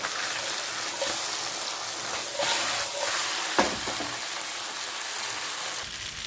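Mackerel fish frying in a pan, a steady dense sizzle of hot oil with a few brief crackles and pops over the whole stretch, close and even in loudness.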